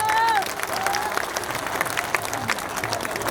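A rally audience at a Gujarati community constitution gathering claps together in a dense, steady burst of applause that fills the whole moment, with a brief voice or whistle at the start.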